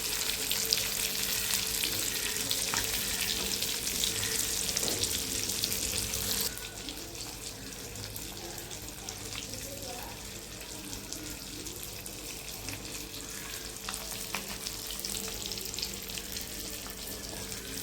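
Fish sizzling in hot oil in a home kitchen, a dense, steady hiss that is loud for the first six seconds and then settles into a softer, continuous crackle with occasional small pops, no voices.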